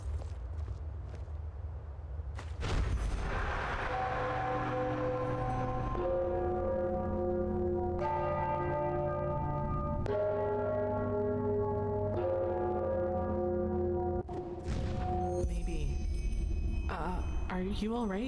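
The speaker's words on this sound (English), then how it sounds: "I'm sure the bells have something to do with the riddle. So we need to hit them in a certain order then" Bells struck one after another in the fantasy game Enderal, a sequence of loud ringing tones with long overlapping decays that forms a tuneful order over several seconds.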